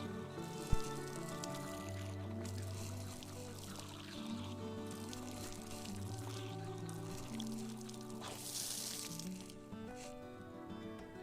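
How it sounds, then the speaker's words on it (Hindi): Water gushing forcefully from a spring spout in a hillside village, a steady splashing pour that runs continuously at moderate distance, with no talk over it. "काफी फोर्स आ रहा पानी"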